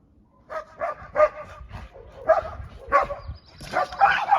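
Two dogs bark, yip and growl in rapid bursts at close range, a rough playful scuffle that grows busier toward the end.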